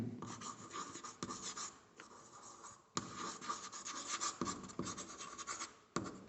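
A pen or chalk scratches steadily across a board during an English grammar lesson, with short strokes and brief pauses. The writing sounds close and continuous, with no talking.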